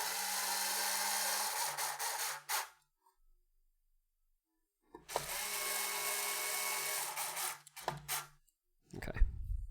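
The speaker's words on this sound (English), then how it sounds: "I'm not tightening these up all the way with the drill." A power drill whirs in two long bursts, driving screws into a plastic Famicom game cartridge shell at close range, with short pauses and small knocks between the runs.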